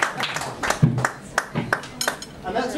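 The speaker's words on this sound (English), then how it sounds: "One last bit of clapping in the crowd." Scattered claps from a small crowd at a 2003 Whitstable gig, a few sharp separate hand claps spaced irregularly with a low room murmur behind, fairly close and not building into full applause.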